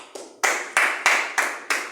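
A church congregation claps in praise for Jesus Christ, giving six distinct, evenly spaced unison claps that ring out loud and close with a slight reverberant tail.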